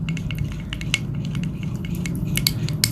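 A spoon stirring tamarind night serum in a bowl, with quick light clinks and scraping taps against the bowl at an uneven rhythm, close up and alone.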